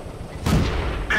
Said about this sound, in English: We'll put some shots into this FT-17. We've hit them.